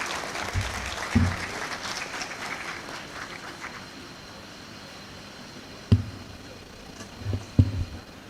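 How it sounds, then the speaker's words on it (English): Graduates and guests at a university congregation ceremony for the School of Veterinary Medicine clap in a brief burst of applause that fades after a few seconds, leaving a quiet hall with occasional thumps. "Please clap yourself and sit."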